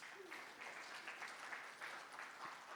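An audience at a corporate talk claps, a soft, fairly distant wash of hands beating steadily for a few seconds without any talking.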